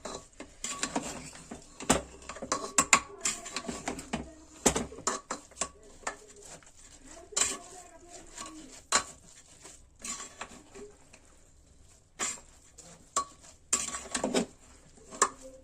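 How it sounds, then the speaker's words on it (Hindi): Repeated scraping and clinking of a utensil against a metal pressure cooker while stirring rice for aloo matar pulao, irregular bursts of stirring at close range, with no talking. "और एक बारी हम सबको मिक्स कर लेंगे अच्छे से।"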